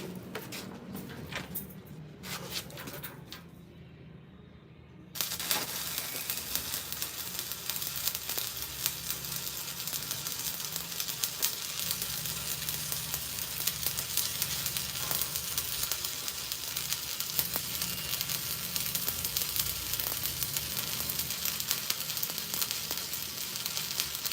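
A steady, crackling sizzle of a Lincoln stick welder's arc runs continuously and fairly loud after a brief quieter start with scattered pops.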